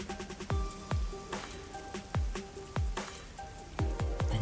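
Rain falls steadily in the video game Master Detective Archives: Rain Code, with a constant wash and heavier drops landing at irregular intervals, set against low background music.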